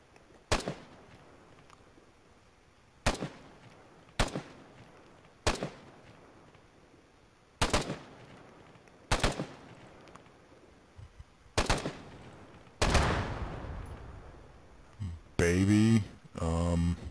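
Shots fired at a mine in ArmA 3, Global Mobilization at Weferlingen: about eight loud, sharp single gunshots spaced a second or two apart. A final shot brings a longer rumbling tail, then a burst of noisy clatter.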